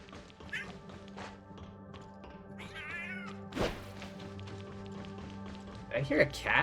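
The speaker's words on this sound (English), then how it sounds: "Did I hear a cat?" A cat meows once amid game sound, a short rising-falling cry over a continuous hum and music bed. There are scattered taps and thuds, and a loud thump partway through.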